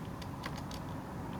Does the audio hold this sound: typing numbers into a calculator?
yes